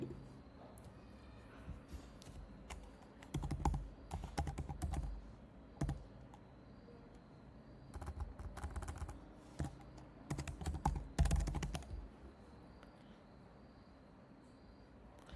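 Keywords being typed on a computer keyboard: bursts of quick, clicky keystrokes with short pauses between groups, close and fairly quiet, with no talking over them.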